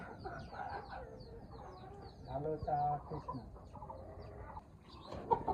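Loose chickens cluck and squawk around a house, several birds calling over one another at close range with a background murmur of people talking.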